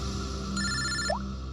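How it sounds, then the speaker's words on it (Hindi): A phone rings in a TV crime drama scene, a brief electronic ringtone with steady tones standing out over a constant background hum. "पंकज का फोन था।"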